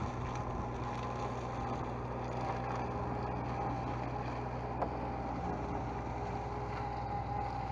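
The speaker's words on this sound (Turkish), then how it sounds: "Bu arada traktörümüz 85'lik Timosan 2006 model Bayağı bir toz atarak gidiyor bakalım." A 2006 Tümosan 85 hp tractor drives along a dusty field, its engine giving a steady, close, continuous drone throughout, with no talking.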